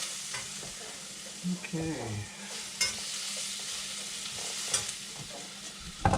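Beef and vegetables stir-fry in a pan with a steady sizzle and intermittent scraping and tossing, and a voice briefly speaks once.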